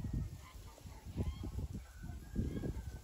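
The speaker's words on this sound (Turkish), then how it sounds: "İran kuşları." Iranian pigeons at a bird market coo and murmur in low, throaty bursts, close by, under a busy background hum.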